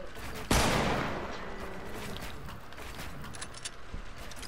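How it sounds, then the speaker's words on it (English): A sharp gunshot cracks out in a video game match, followed by a decaying rumble and lighter intermittent shots over a steady background. "I am shooting."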